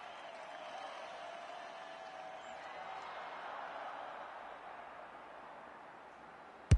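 A video-game stadium crowd at an AFL 26 football match gives a steady, broad roar of cheering and applause at moderate loudness, sustained throughout and ending in a brief sharp thump.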